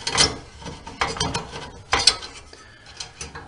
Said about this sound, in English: I'm going to pull this bolt here off.